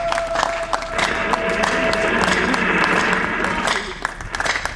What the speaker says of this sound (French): Applaudissons pour Maître.